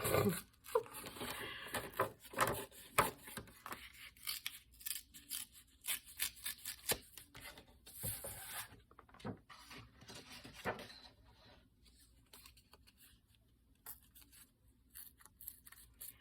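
Scissors cutting out paper, a close series of quick snips and crisp paper rustles, busy at first and then thinning to sparse, quieter cuts with handling noises.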